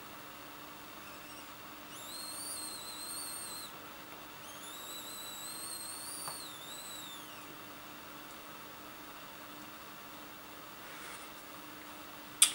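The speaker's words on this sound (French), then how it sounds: "c'est ce petit sifflement lorsque on aspire, puisque ici donc c'est le petit trou" A Rocket vacuum cleaner emits a thin, high whistle from a small hole while suctioning, coming in two stretches over a steady motor hiss, followed by a sharp click at the end.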